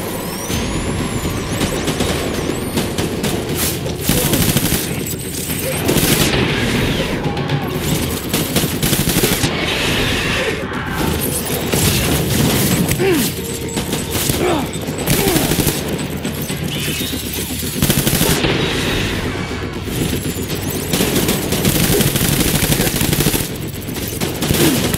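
Loud, continuous gunfire in Death Stranding Director's Cut on PS5, heavy volleys and rapid bursts with booming impacts and rumbling vehicle-like noise running throughout.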